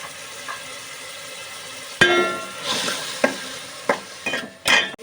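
Onions fry in a pan under a faint sizzle, punctuated by several sharp spatula scrapes and clinks against the metal, close by, with no talk.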